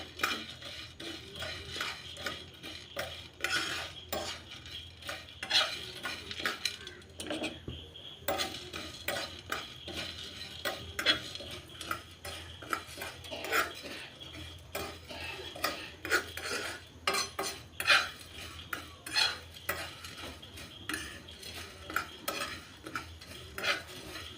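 Coriander seeds, fennel, cloves, cinnamon and cardamom dry-roasting in a pan, stirred constantly with a spoon, giving a faint dry rattling scrape with soft clinks and no talk.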